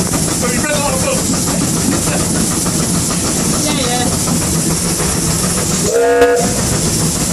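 Steam locomotive 6619 on the Kent & East Sussex Railway moving, a loud steady rumble and rattle from the footplate with hissing, short whistle notes early on and a louder whistle blast near the end; voices talk over it.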